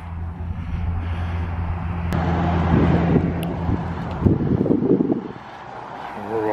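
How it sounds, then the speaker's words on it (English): Cars passing on a rainy Sunday street, a steady low traffic rumble with wind buffeting the microphone, one vehicle swelling closer midway before fading. "But you can definitely hear the cars."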